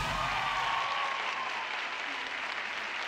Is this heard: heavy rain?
no